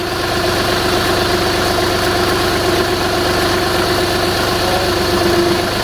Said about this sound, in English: put it into first gear and release the clutch slowly